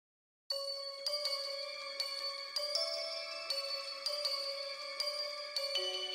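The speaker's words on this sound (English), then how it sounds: "So then I layer that sound with another bell." A bright, layered bell-like synth plays a ringing melody of sustained chiming notes, struck at a steady pace with no voices.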